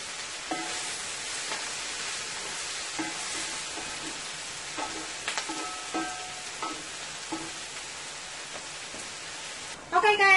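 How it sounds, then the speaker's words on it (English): Spinach frying in a pan for a Guyanese-style dhal and rice meal, a steady soft sizzle broken by repeated scraping stirs and tossing clatters, with a louder clatter near the end. "I'm going to check on my spinach here, which is cooking up nicely"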